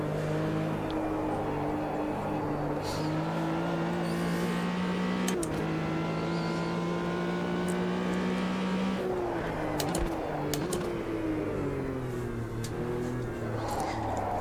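A race car engine in the sim racing game Automobilista 2 drones and revs at steady volume, its pitch climbing and dropping through gear changes, with someone talking over it.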